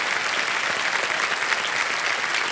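Studio audience applauding on the Kaun Banega Crorepati quiz show, a loud, continuous burst of dense clapping filling the room.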